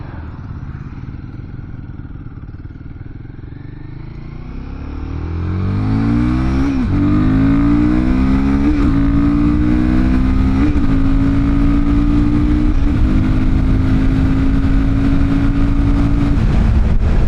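Royal Enfield Guerrilla 450 motorcycle accelerating hard from a steady roll, engine note climbing through several gears with brief dips at each shift, loud and close with constant wind rush.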